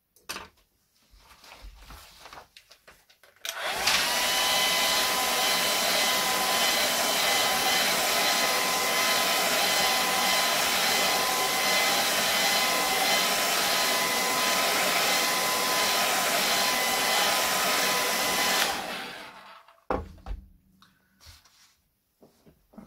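A hair dryer blows steadily to dry a watercolour painting of a cabin in the snow, a loud, constant whooshing roar that switches on abruptly, runs about fifteen seconds without a break, then cuts off, leaving faint room noise.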